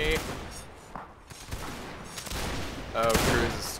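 Musket volleys in the Napoleonic Wars mod of Mount & Blade, ragged bursts of many shots cracking together, with a louder volley near the end.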